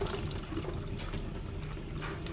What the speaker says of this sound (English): I'm going to turn the water on slowly